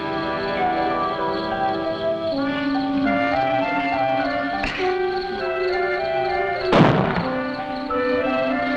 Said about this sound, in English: when he fires that cannon, he means business